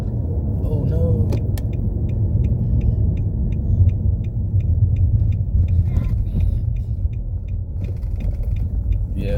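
Road traffic with cars passing, a continuous low rumble of engines and tires with a faint rhythmic metallic ticking over it, fairly loud and steady throughout.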